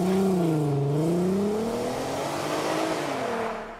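An Audi TT mk1 (8N) VR6 engine revs hard and holds a high, throaty drone, then eases slightly, loud and close.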